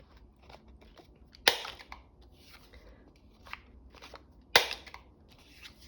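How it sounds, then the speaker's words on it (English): A large paper punch cutting through paper card stock for a junk journal, two loud sharp snaps about three seconds apart amid quieter rustling and handling clicks close by. "So I'm using the large punch."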